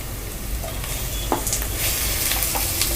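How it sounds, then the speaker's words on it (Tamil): Tomatoes and onions sauté for mutton biryani in a pan, giving a dense, even sizzle up close with a couple of quick stirring scrapes and no speech. "தக்காளியும் நல்லா வதங்கணும்"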